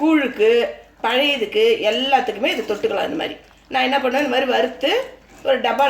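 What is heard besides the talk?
None of the usual background noises is heard.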